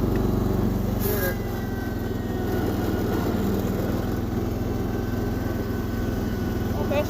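A Massey Ferguson garden tractor's engine runs steadily in its top gear, a loud, constant buzzing drone close to the listener, with no break across the whole stretch.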